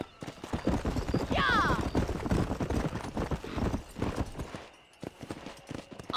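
Horse hooves gallop in a fast, continuous rhythm in the Red Dead Redemption video game, loud and close, with a whinny early on and a shouted voice near the start.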